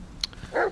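A dog in The Medium, in the Niwa Forest, gives a short bark, brief and fairly close, after a faint high tick.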